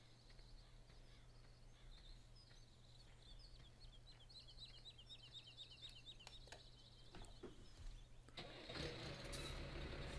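A tractor engine in Farming Simulator 17 cranks with a rapid starter chatter, then catches and rises into a loud, steady running rumble near the end, over faint bird calls and a low hum.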